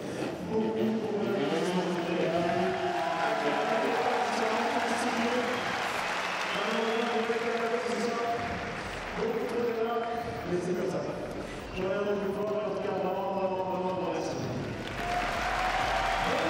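An indoor arena crowd applauds steadily at a 2022 FIM X-Trial World Championship motorcycle trials round in Chalon-sur-Saône, the clapping running continuously beneath someone speaking over a loudspeaker.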